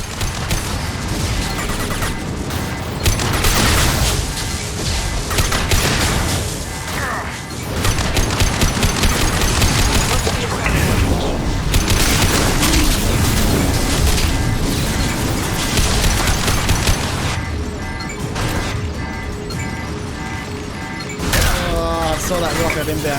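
Explosions and bursts of gunfire in Mass Effect 2 pound almost continuously in a dense, loud firefight, with heavy booms and voices talking throughout.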